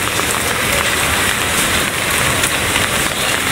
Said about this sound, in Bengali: কয়েকদিন ধরে বৃষ্টি পড়তেছে, বাট আজকে সকালে বৃষ্টির তেজ একটু বেশি ছিল